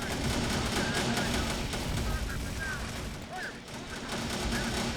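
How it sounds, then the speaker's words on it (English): Sustained gunfire and explosions from the video game Terminator: Dark Fate - Defiance, a dense continuous barrage of shots and rumbling booms that stays loud throughout, with no clear individual pauses. "Look at how much gunfire is just coming down."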